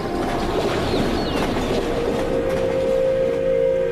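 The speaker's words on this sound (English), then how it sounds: "The quiet disturbed only by an occasional freight train." A freight train passes near a wilderness campsite in Montana, loud and close, with a continuous heavy rumble and wheel clatter. A sustained metallic squeal rises toward the end and no voices are heard.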